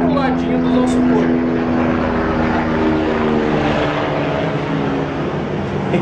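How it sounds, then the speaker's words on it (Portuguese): A propeller airplane drones overhead in a steady, loud, continuous roar that lasts throughout and drowns out the surroundings. "Até avião interrompe nessa hora."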